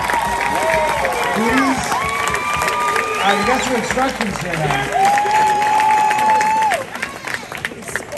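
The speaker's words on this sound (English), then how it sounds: "2023, please stand and clap." A high school graduating class at a commencement ceremony claps and cheers in a loud, continuous burst while a voice speaks over the crowd through the sound system, the applause thinning near the end.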